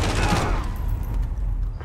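Burst of rapid gunfire in Call of Duty Modern Warfare, loud and close with a quick decaying echo, over a brief moment of play.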